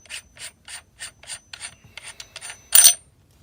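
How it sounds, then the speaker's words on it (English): The metal top piece of a Korbanth K4 saber hilt is unscrewed in a series of short, evenly spaced rasping scrapes, close and quiet, ending in one louder metallic scrape. "if you want to get to the blade retention screws, you just unscrew this top piece"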